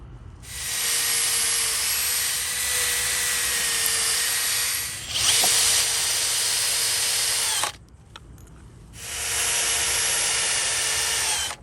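A power drill runs in long steady bursts, first pre-drilling through a wooden swing-set board with a bit matched to the screw diameter, then driving in two 2.5-inch screws, with short pauses between runs and no talk.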